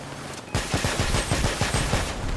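Rapid cannon or machine-gun bursts from a vehicle combat video game, a steady run of about a dozen punchy shots that starts abruptly after a brief lull and stays loud and close.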